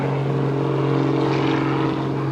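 Steady, loud propeller and engine drone from a small 1940s-designed biplane hanging nose-up on its prop at a naval air station airshow, holding an even pitch throughout.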